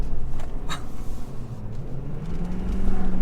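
A Ford Powerstroke diesel pickup engine with the accelerator pedal lightly feathered, a steady low rumble heard from inside the cab with a gently rising and falling drone.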